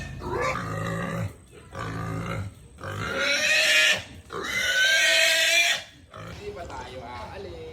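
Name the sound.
pig squealing while being caught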